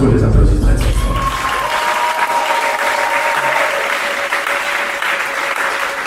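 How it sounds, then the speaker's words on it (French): Wedding guests applaud a bride's family, steady clapping that rises after a loud opening moment and continues evenly, with a voice briefly heard over the crowd. "je vous prie d'applaudir très fort pour la famille du père de Rita"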